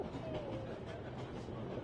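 A train from the video game Memories Retold rolls steadily along the rails, a low continuous rumble with faint rhythmic clatter and a brief squeal.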